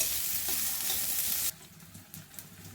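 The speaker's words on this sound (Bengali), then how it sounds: "এবার পেঁয়াজটা লাল লাল করে ভাজা হয়ে গেছে" Onions fry in oil to a reddish brown with a loud, close sizzle for the first half, which drops abruptly to quieter stirring scrapes and a few soft clinks.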